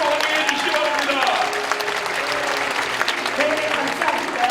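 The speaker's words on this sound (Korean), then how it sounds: "성도 여러분 다시 한번 뜨겁게 박수로 환영해 주시기 바랍니다." A large church congregation at a Pentecostal world conference opening service claps warmly to welcome South Korea's flag entering, a continuous, full applause sustained throughout, with faint voices mixed in the crowd.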